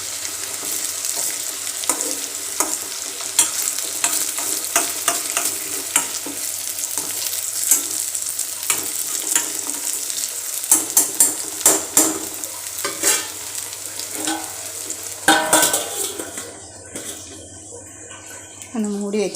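Tomatoes for a chicken curry cook in a pan with a loud, busy sizzle and frequent stirring clatter. Someone talks over it, and it quiets near the end.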